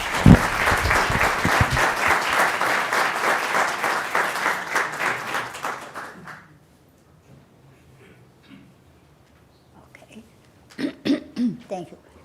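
An audience applauds to welcome a Holocaust survivor onto the stage, dense clapping filling the room for about six seconds before thinning out and dying away, followed by scattered coughs and quiet murmurs.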